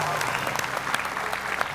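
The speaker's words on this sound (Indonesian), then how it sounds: "Karena ini adalah tepuk tangan pertama kita di tahun 2017." Steady applause from a crowd, dense and continuous clapping filling the room with a faint voice underneath.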